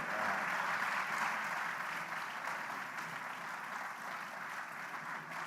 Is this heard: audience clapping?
yes